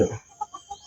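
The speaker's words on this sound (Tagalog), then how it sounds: "So, may manok na lumapit." A chicken gives three short, soft clucks in quick succession after a brief rustle, close by and otherwise quiet.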